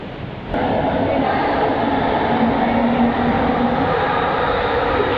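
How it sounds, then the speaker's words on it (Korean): A metro train runs through Kuala Lumpur with a steady, loud rumble that starts after a brief quieter moment and holds evenly to the end, with a faint tonal whine under the roar. "그 다음에 기차를 타면 되겠죠?"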